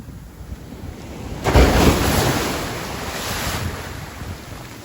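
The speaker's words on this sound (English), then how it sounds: "It's the ocean, man." Ocean waves break on the shore, one surge swelling loudly and then fading back into a steady wash, with gusts of wind buffeting the microphone.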